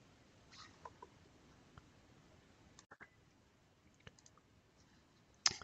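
Soft, sparse computer mouse clicks come one or two at a time in a quiet room, faint and close, with silence between them.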